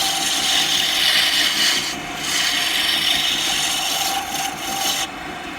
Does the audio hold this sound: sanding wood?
yes